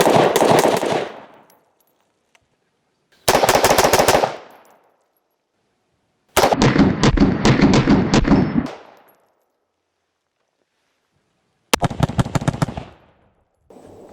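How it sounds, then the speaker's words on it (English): A gun fitted with a Ryker grip fires in four loud bursts of rapid, ringing shots, separated by silent gaps. "We're going to shoot 6 shots"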